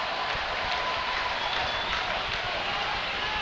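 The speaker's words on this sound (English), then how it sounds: "Crowd comes to life a little bit here." A crowd at a minor-league hockey finals game murmurs and cheers in a steady wash of arena noise, with a commentator speaking over it.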